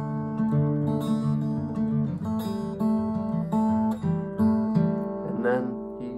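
Steady, ringing guitar plays the first two chords of a song, with two strings plucked at once in an alternating in-out pattern, clear and close with no talk over it.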